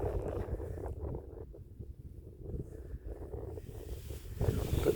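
Wind gusting across an open Dartmoor hillside, rumbling buffets against the microphone that rise and fall, easing in the middle before surging strongly again.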